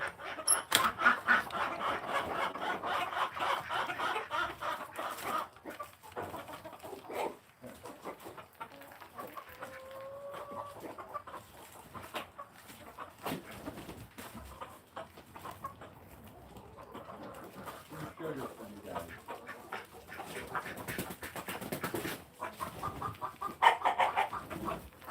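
Farm chickens cluck and murmur faintly at a distance across a long stretch, mixed with rustling, handling noises and outdoor background.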